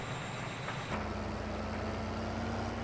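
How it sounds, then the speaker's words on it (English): A tractor engine in the farming game Farming Simulator 15 drones steadily and loudly, with a low, constant hum that shifts pitch slightly about a second in and then holds even to the end, no talking over it. "turn it down on the headstick because it's real loud, this tractor"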